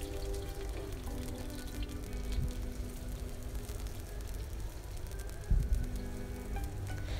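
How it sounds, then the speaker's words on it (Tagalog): Onions sizzling in hot oil in a pan, a steady moderate crackle with scattered pops and a louder burst near the end, no talk. "maglagay tayo ng mantika sa mainit na pan. Pag mainit na ito, pwede na natin ilagay ang sibuyas."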